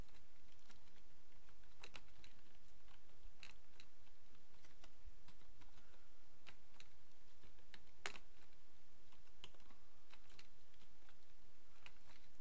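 Keys clatter on a computer keyboard as FFmpeg command parameters are typed, a steady run of close, light clicks with occasional louder strikes, alone without talk.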